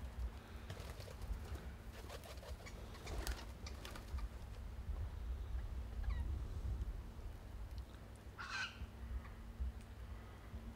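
A magpie calls briefly, with a short harsh burst against a windy outdoor background and low rumble by Lake Victoria.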